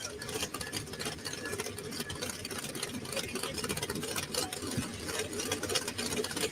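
A Chevrolet-powered Pro Stock four-wheel-drive pulling truck engine running on racing gasoline with a single carburetor at a truck pull, a steady dense rumbling drone heard from a distance without any breaks.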